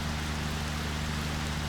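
Rain falling steadily on a Thai island in the evening, a dense, even hiss of drops that stays constant throughout, with no voices.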